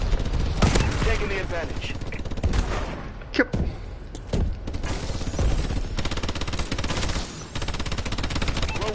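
Rapid automatic gunfire from a long-range gun in Call of Duty: Advanced Warfare, dense sustained bursts of shots with brief pauses and a few heavier thumps, under a player's talking.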